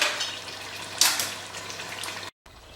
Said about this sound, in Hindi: भूनने के लिए 1 बाउल पानी डाल रहा हूँ मैं।